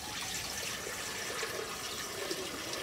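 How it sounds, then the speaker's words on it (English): Water is poured into a taped bowl fitted with chicken wire for a flower arrangement, a steady, soft, close splashing and trickling with no voices. "So the first thing we need to do is add some water."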